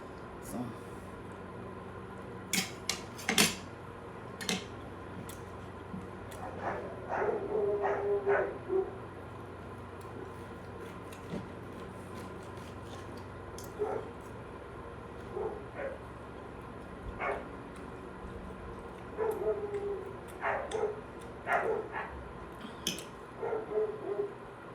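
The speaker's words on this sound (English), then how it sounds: "My dog started barking" A dog barks a few times in short, scattered bursts, somewhat distant and faint, over a low, steady background drone.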